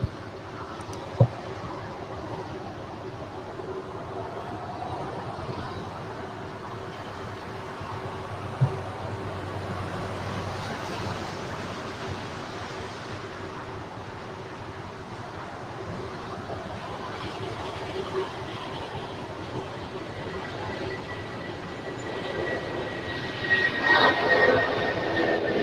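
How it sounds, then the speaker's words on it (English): A United Airlines Boeing 757-200 takes off from runway 25 right at LAX, a steady broadband engine roar with rumble that swells louder near the end. "757-200, flight 1507, on our way to Newark. Now rolling down,"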